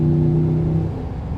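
A 2018 Ram pickup fitted with a K&N cold air intake pulls after a downshift, a steady low, droning engine rumble with a strong hum, heard from inside the cab and fading slightly toward the end.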